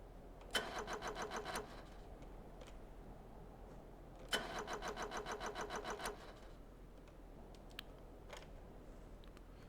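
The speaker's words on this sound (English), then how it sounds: "Engine won't start though." A vehicle engine in Stormworks cranks without catching, two separate bursts of rapid, even starter-motor chugging, each lasting about a second and a half, with quiet pauses between.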